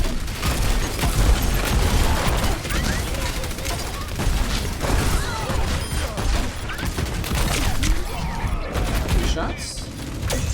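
Dense, continuous gunfire from the Overwatch match on the Hanamura map rattles throughout with booms and clatter mixed in, and a player talks over the din.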